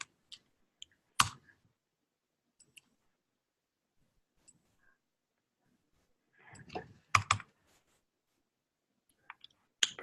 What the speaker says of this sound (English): I'm just typing stuff in to get to the next screen before the authorization happens.